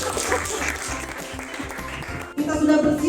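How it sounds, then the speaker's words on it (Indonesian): Brief clapping from a class of vocational school students at SMK Negeri 3 Tanjungpinang, mixed with voices and background noise, with a sharp cut and louder burst near the end. "Oke, tepuk tangan."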